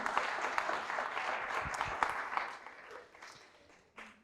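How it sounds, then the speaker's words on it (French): An audience claps together, a dense patter of hands that gradually thins and fades, ending with a few last claps. "on peut les applaudir bien fort"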